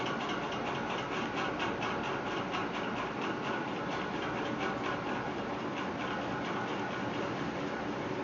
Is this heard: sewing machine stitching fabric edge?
yes